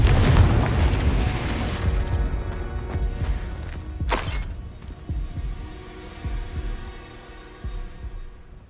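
The Confringo explosive spell going off in the Hogwarts Legacy video game, with a heavy booming blast and rumble at the start, then a sharp crack and a fading, rumbling tail.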